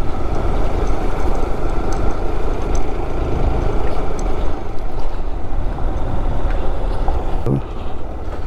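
A car engine labors loudly and steadily in first gear while climbing a steep hill road between Siliguri and Kalimpong, with a dense, continuous rumble that stays strong throughout and a brief knock near the end.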